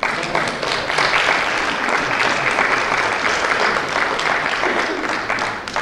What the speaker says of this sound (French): Oui, applaudissez le Seigneur, s'il vous plaît.